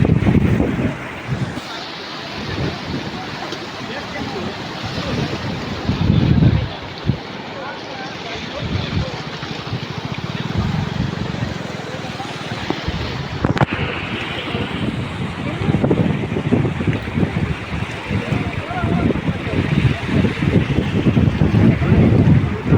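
Swollen village river in flood after heavy rain, rushing and churning as a broad, steady roar close by, gusts of wind buffeting the microphone throughout.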